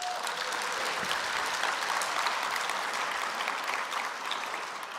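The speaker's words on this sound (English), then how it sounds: "let's clap for them" An audience at a library technology conference claps for its sponsors, a dense, even burst of applause that holds steady, then tapers slightly near the end.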